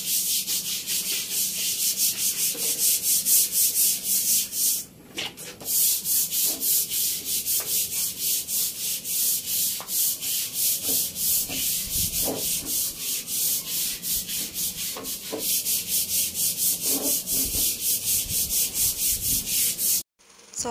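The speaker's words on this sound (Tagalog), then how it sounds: "talagang binabrush ko yan ng sabon saka Sunrox para matanggal yung mga makapit na dumi" Stiff brush scrubs a mossy terrace floor with soap, a close, loud back-and-forth rasping in a steady rhythm that pauses briefly once and stops at the end.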